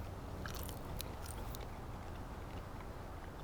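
Several crisp, close bites into crunchy freeze-dried zucchini crackle sharply at first, then fade into quieter chewing.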